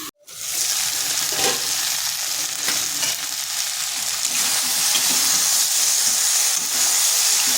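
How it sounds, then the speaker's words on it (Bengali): Brinjal pieces sizzle lightly in a pan, a loud, steady bright hiss that starts abruptly and holds close and unbroken throughout. "বেগুনগুলো হালকা ভেজে নিয়েছি"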